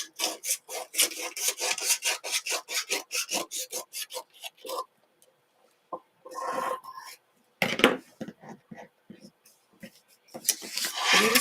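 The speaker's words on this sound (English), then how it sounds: "I'm going to take one of my handy dandy nail files" A nail file rasps back and forth against excess paper on the edge of a decoupaged wooden door round, in quick close rhythmic strokes that pause and then resume, with brief rustling between.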